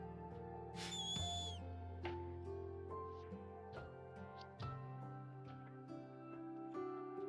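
A sharp rising whistle at the start, followed by tonal whistled notes that sound like a person imitating a whistle in an Arknights readalong; fairly faint, no talk.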